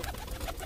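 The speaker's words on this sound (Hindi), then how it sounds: "पूरे कबूतर आ गए" Pigeons gathered at a feed of chickpeas give a faint, soft low cooing murmur, quiet and continuous through a short moment.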